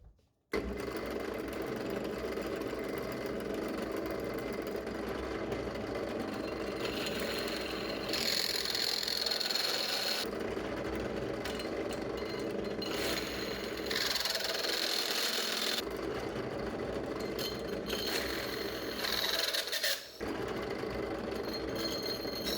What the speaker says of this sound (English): The step drill is just not working as well as I'd hoped. It's getting a bit jammed as it gets deeper in.